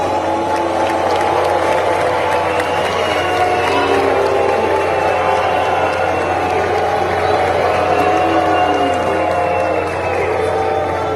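A large crowd at a climate conference in Salvador booing Brazil's Environment Minister Ricardo Salles, a loud sustained roar of jeers and shouting filling the hall without pause.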